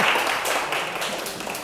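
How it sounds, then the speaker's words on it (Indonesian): A classroom of students claps together in a short, dense burst of applause at fairly close range, with no one speaking over it. "Hebat ya, tepuk tangan dulu."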